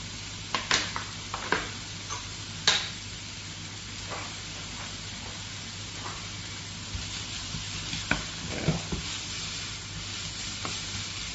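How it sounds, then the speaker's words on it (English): Barley and broccoli stalks sizzle steadily in a hot pan, a constant hiss punctuated by occasional sharp pops and crackles. "Just sizzling away."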